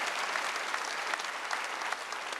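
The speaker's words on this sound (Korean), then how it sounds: "박수하세요" Church congregation applauding during a Wednesday worship service, a steady, dense wash of many hands clapping at once, moderately loud and sustained throughout with no voices standing out.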